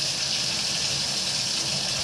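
Hot water runs steadily from a tap, a loud, constant close-up gush with no breaks.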